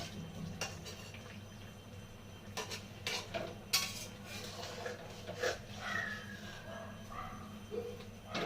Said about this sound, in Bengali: ওর জন্য আমি আলতো করে নেড়ে দেবো একটু।